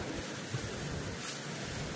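Moderate ocean waves at sea wash steadily around a boat, a soft broadband surf hiss with wind noise and no distinct breaking crashes.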